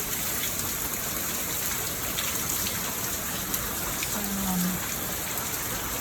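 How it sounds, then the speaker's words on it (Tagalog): Steady rain on a rainy morning, a dense, even hiss of falling drops that stays at the same level throughout, with no voices. "medyo humina na ang ulan"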